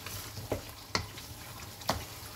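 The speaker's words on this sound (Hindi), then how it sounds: "वैसे कढ़ाई में योगर्ट डलती नहीं है, लेकिन थोड़ा सा मैंने इसमें डाली है" Keema karahi cooking in a karahi with a little yogurt added, a low steady sizzle under three sharp scrapes or clinks of a spoon against the pan, close and alone.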